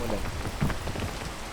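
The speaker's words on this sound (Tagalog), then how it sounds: "Kalma ka lang. Umuulan." Steady rain patters densely on a surface, a close, even hiss of drops with no pauses.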